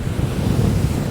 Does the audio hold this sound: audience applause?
no